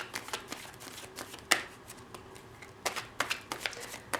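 Tarot cards are shuffled and drawn at close range. Soft riffling and sliding alternate with several sharp card snaps and flicks in an uneven rhythm, with no talking.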